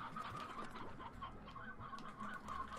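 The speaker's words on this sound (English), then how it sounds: "So our chicken farm is doing a lot better." Chickens cluck steadily on a farm in the video game Slime Rancher, a busy run of overlapping clucks and squawks over a soft game-audio bed, with no talking.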